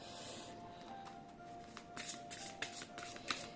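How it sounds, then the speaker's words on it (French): Oracle cards spread out across a table, soft papery sliding and light flicking that grows busier toward the end, quiet and close with faint background hum. "je vais étaler toutes les cartes"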